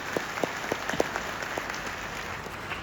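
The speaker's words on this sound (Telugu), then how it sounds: "రేవంత్ రెడ్డి గారిని అభినందిస్తూ మీరందరూ గట్టిగా చప్పట్లు కొట్టండి ఒకసారి" Audience applause at a Congress party preparatory meeting, a steady wash of clapping from a crowd with a few sharper individual claps standing out, fairly distant and continuous throughout.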